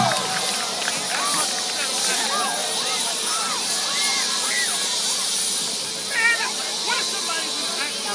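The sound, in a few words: helicopter flying over football field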